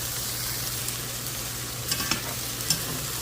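Cilantro being stirred into white bean chili cooking in a pan, with a faint steady sizzle and a few soft scraping stirs near the end.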